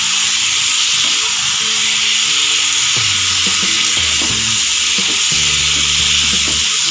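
Fish egg kofta curry masala being sautéed in a pan, a loud steady sizzle with hissing frying noise and stirring scrapes, close up and alone without talk.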